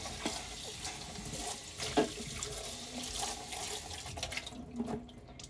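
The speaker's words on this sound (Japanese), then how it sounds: "さーて、やっと洗い物が終わるぜ。" Dishes being washed at a kitchen sink under a running tap, with water streaming steadily and splashing, interrupted by clatter and louder bursts. The sound is close and continuous, with no talking.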